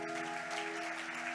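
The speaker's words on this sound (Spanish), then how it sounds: "Den un aplauso a Dios por eso." Brief burst of church congregation applause at a Spanish-language service, steady and dense, with a sustained keyboard tone humming beneath the clapping.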